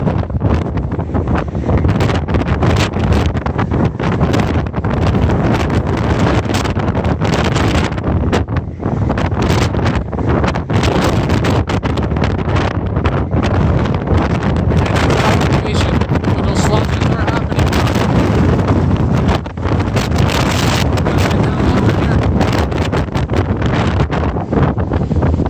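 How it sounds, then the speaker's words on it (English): Strong gusts of a May windstorm in Montreal buffet a phone microphone outdoors, a loud, continuous roaring rumble with no letup across the whole stretch. "This wind is incredible."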